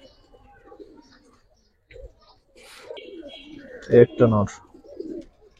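Cobra Silver pigeons cooing in a short low burst near the end, with someone talking over them and handling noise around.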